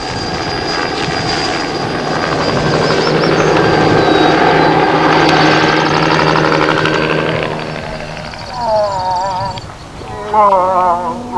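Aircraft engine drone, likely a helicopter of the kind used to airlift a grizzly bear, holds steady and loud with broadband rotor noise through most of the span, then fades as animal-like calls rise near the end.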